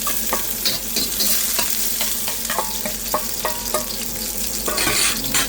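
Ginger and onion fry in avocado oil in a pan, a loud continuous sizzle broken by regular scraping and clicking strokes of a utensil stirring, close up.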